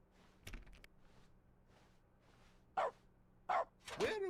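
Barks in The Stanley Parable: Ultra Deluxe, triggered by clicking objects in an office game, three spaced bursts near the end after soft clicks and quiet murmuring.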